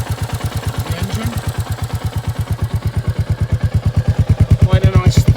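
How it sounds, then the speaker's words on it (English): A Royal Enfield Meteor 350cc motorcycle idles up close with a steady, deep exhaust thump, each pulse distinct and growing slightly louder and heavier toward the end. "quite a nice thump at the exhaust"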